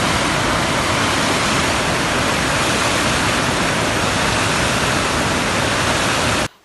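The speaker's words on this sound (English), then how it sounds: "So the aerated water flows to the next chamber" Aerated water pouring through a chamber at the Usman Dam water treatment plant, a loud, dense, continuous rushing roar like a waterfall, unbroken until it cuts off abruptly near the end.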